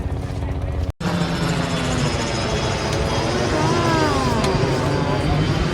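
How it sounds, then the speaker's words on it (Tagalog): A helicopter passes overhead at a beach, a loud steady engine and rotor roar that fills the whole clip, with wind noise and a brief dropout early on. "May helicopter."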